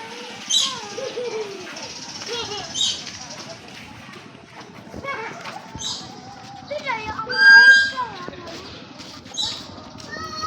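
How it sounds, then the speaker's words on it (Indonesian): Birds call and chirp at a deer park in Aceh Besar, Indonesia, with scattered short whistles and twitters under nearly constant nearby talk, while a low hum runs throughout. "Di Calang banyak burung-burungnya."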